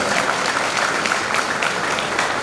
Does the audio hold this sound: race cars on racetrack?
no